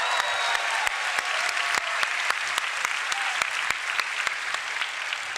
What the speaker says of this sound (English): Give a round of applause for Chocobos